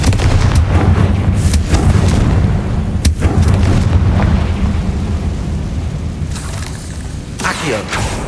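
Confringo fire curse blasts from the Hogwarts Legacy video game, heard as loud booming explosions that repeat throughout, with a constant rumbling game soundtrack underneath.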